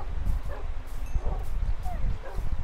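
Tamed dogs bark, yip and whimper in a video game battle against illagers. The short, overlapping yelps repeat close up beneath excited talking.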